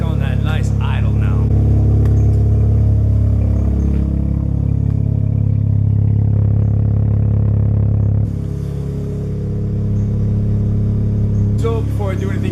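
A car engine idling steadily after its battery was removed, a loud close low hum that settles lower partway through, with someone talking over it.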